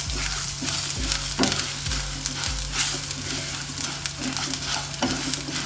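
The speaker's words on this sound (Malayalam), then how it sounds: "ഒന്നും ചെറുതായിട്ടൊന്ന് ഫ്രൈ ചെയ്തെടുക്കാം." Cumin, fennel and coriander seeds frying in a hot pan give a steady close sizzle, broken by several clinking stirs of a spoon against the metal, with no voices.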